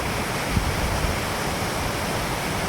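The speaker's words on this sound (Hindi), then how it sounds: "बहता हुआ झरना" Steady, broadband rushing of water from a mountain waterfall on the Kedarnath trek, continuous and fairly loud throughout, with no voices.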